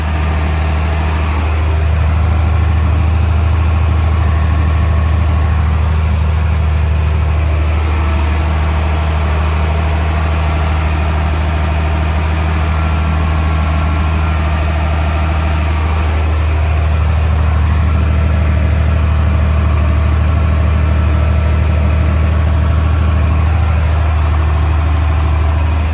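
A blue tractor engine idles close by with a loud, steady low throb and vibration that holds unchanged for the whole stretch, with no talking.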